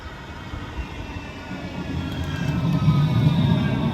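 A tram rumbles at a tram station, a low rolling drone with rail noise that builds steadily louder as it draws closer, heard alone with no talking.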